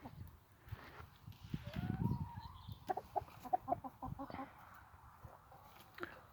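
Egg-laying hens and a fighting-breed rooster clucking and murmuring softly nearby, with scattered short calls and a rising squawk over faint background noise.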